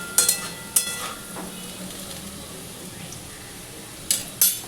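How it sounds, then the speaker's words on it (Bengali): Potato pieces fry for a potato-and-poppy-seed dish with drumsticks, a soft steady sizzle under a few sharp clinks of a spatula against the pan at the start and end. "ভালো করে এটাকে ভেজে নিই"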